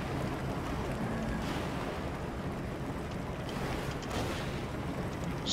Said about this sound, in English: I'm a bit of a fan of this little motorbike.